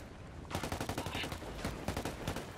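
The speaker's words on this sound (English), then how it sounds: "Oh, somebody's shooting at me." Video-game gunfire in a shooter match: rapid bursts of automatic shots crackle in quick succession for a couple of seconds, moderately loud and unbroken by talk.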